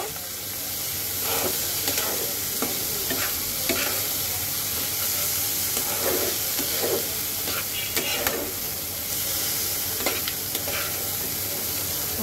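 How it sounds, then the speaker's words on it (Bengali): Dal (lentils) frying in a pan for a bottle-gourd dish, giving a steady close sizzle throughout, broken by repeated scraping stirs and no talking. "ডালটাকে আমি একটু সুন্দর করে ভেজে নেব।"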